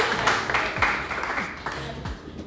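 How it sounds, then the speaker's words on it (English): A college tennis team gathered for a meeting claps for themselves, a short spell of group clapping with voices and some low rumbling underneath. "Give yourself a round of applause"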